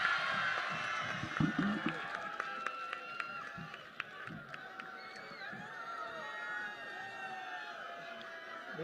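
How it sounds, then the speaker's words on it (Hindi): Crowd at an open-air corner rally for the Bharat Jodo Yatra in Kalamnuri cheers and claps continuously, a dense roar of many voices with scattered shouts and applause. "जोरदार तालियां।"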